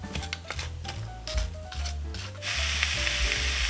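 Onions and apples sizzle steadily in a hot pan over low heat, a close crackling hiss with soft scraping, growing a little louder toward the end; no one speaks.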